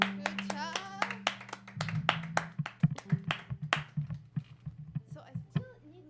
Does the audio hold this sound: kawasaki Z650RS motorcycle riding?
no